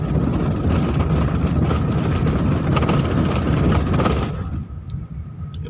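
A car engine accelerating in fourth gear gives a loud, steady, close rumble from inside the vehicle, then eases off and drops quieter near the end.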